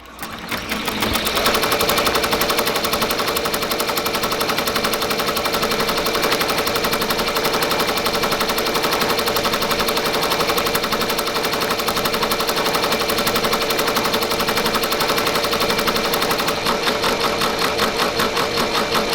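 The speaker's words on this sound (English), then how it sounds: "I'm just gonna hit start, and it's gonna start stitching from here that way again" Ricoma MT-1501 embroidery machine stitching, a loud, fast, steady mechanical rattle of needle strokes running continuously up close without a break.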